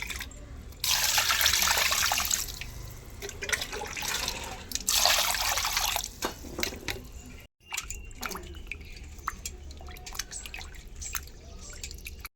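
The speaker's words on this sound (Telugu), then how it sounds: "ఇప్పుడు వీటిని మనం వాటర్లో శుభ్రంగా కడుక్కుందాం" Water runs and drips steadily into a sink, with irregular splashing and trickling as chicken leg pieces are rinsed under a tap; no voices.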